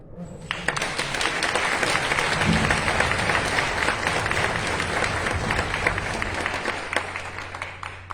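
Sustained applause fills a book presentation hall as the audience claps for the author, federal deputy Rubén Terán Águila. The dense, steady clapping carries on for around eight seconds at moderate level.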